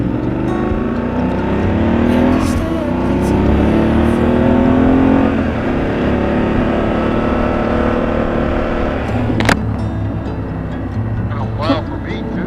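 A motorcycle in enduro mode rolls over fresh driveway gravel, its engine note climbing and falling through revs close by, with a faint crunch underneath and a few sharp knocks near the end.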